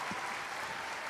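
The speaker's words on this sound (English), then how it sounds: "give myself a round of applause" A short burst of applause on a live podcast, a steady wash of clapping lasting about a second with no voices over it.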